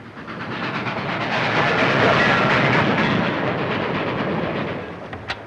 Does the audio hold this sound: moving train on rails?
yes